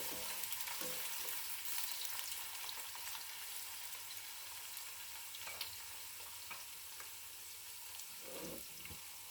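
Onions fry in mustard oil in a pan with a steady, dense sizzle that stays loud throughout. Occasional stirring clinks and scrapes sound over it, and no one talks.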